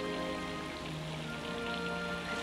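Rain falls steadily on a surface, a dense constant hiss with light droplet texture, uninterrupted and without voices.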